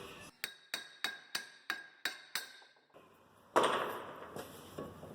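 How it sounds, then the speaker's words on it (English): Seven sharp metallic hammer taps ring out one after another on a brake rotor of a 2010 Mazda Tribute, close and clear. Then comes a louder clunk and scrape as the rotor loosens. "Give the rotor a few taps and take it off."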